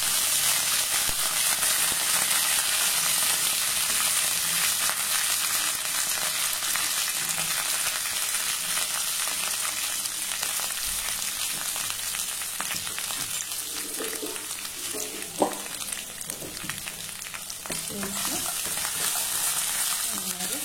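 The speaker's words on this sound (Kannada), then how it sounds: "ಫ್ರೈ ಮಾಡ್ತೀವಿ." Spice paste frying in hot oil for temple-style lemon rice (chitranna), a steady dense sizzle running throughout with occasional stirring clicks and scrapes near the middle, close and even in loudness.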